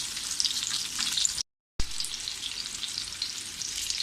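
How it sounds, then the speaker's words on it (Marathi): Chicken pieces coated in rava fry crisp in a pan with a close, steady hiss and crackle of hot oil, broken by a brief silent gap before the sizzling resumes. "अजून दोन मिनटं आपण ठेवूया म्हणजे छान असं खरपूस आपलं भाजून होईल"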